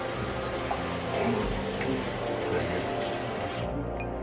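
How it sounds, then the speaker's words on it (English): Water runs from a tap over a blender top being rinsed by hand, a steady splashing hiss at moderate level with faint background movement. "We're gonna wash our top with alkaline water."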